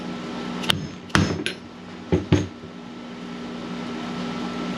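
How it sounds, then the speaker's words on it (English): A dead blow hammer taps a seal driver to seat a wheel seal on a 1982-92 Camaro/Firebird hub. The strikes are close, sharp and spaced, about four knocks with a pair near the end, over a steady background hum. "with a dead blow hammer, just going to tap until it's flush"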